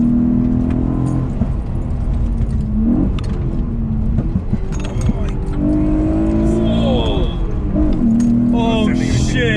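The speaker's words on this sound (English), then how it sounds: "it's those gear changes every time." A Holden Commodore VF SV6 engine revs hard from inside the cabin, its pitch climbing and dropping through repeated gear changes as excited voices talk and shout over it.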